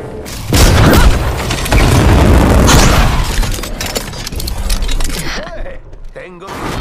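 Grenade blast in the Apex Legends battle royale shooter, a loud booming explosion with shattering debris, followed by rumbling gunfire and combat noise that fades toward the end.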